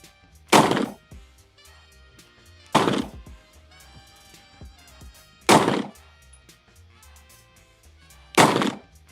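A CZ Shadow 2 Compact pistol fires four sharp, loud shots spaced roughly two seconds apart, each report followed by a short ringing decay over a quiet outdoor background.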